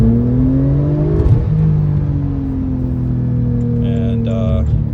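A 2017 Porsche 911 Turbo S in Sport Plus mode accelerates briefly from the cabin, its engine note rising in a smooth climbing drone with gear changes, while a brief mechanical click and chime sound near the end.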